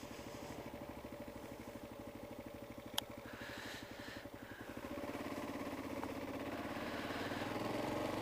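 A motorcycle with new levers fitted idles and runs on a test ride around town, its steady pulsing engine close and continuous, the tone rising slightly near the end with one sharp click partway through.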